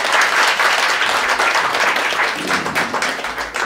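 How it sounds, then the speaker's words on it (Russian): Loud, dense applause from a comedy show audience in a big hall, continuous clapping from many hands across the whole stretch with no voices over it. "Аплодисменты, ребята, вот этим людям"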